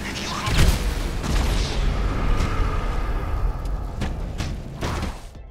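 A sticky bomb detonates beside a boat during a GTA Online Cayo Perico heist, with heavy booming blasts and sharp cracks repeating over several seconds, while someone talks over the noise.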